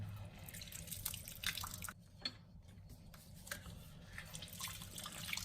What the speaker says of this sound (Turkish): Böyle bir adet limonum var. Bunun da suyunu sıkacağım şimdi.